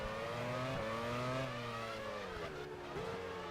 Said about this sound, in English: I can hear the cars behind us.